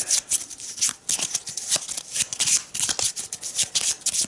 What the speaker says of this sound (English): Now we shuffle the green cards.